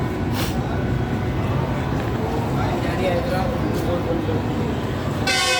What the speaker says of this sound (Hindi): और गाड़ी जाने का टाइम हो चुका है, हॉर्न हो चुका है